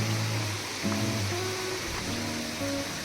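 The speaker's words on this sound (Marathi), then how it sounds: "छान पाण्याचा आवाज आहे" Small waterfalls and a flowing stream at Madhe Ghat during the monsoon, a steady rushing wash of water with faint tonal sounds drifting over it.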